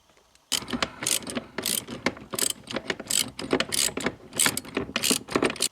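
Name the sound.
unscrewing bolts with a ratchet on an Audi 100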